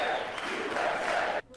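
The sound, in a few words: applause for the U.S. men's hockey team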